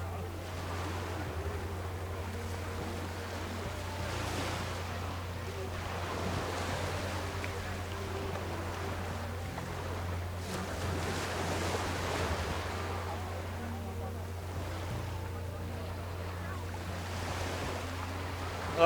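Waves wash and lap against the shore at a stand up paddling championship venue in Qingdao, China, a soft, continuous surf with gentle surges, wind rumble and a steady low hum underneath.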